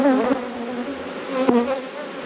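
Agitated honeybees buzz loudly and continuously at close range around an opened hive as frames are moved, a dense steady drone with a brief surge near the middle.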